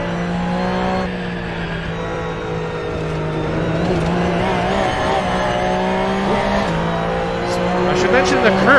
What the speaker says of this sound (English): The Porsche 911 GT3 Cup car is actually very fast on the straight. Coming up to 250 kilometers an hour under the Canadian Tire sign.